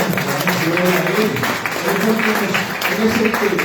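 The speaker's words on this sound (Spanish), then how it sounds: "Cuando un aplauso al Señor Jesucristo." A church congregation applauds, broad clapping running throughout while voices call out and shout over it, the crowd noise rising and falling in waves.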